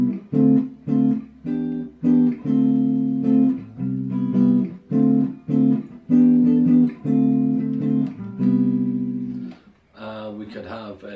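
A series of sustained guitar chords in a natural minor key changing in a steady progression, each held about a second with brief gaps, played alone and fairly loud.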